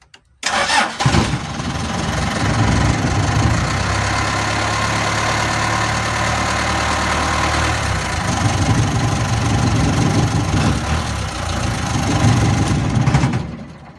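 A car engine cranks briefly and fires up, then runs at a steady, loud idle nearby for over ten seconds before cutting off.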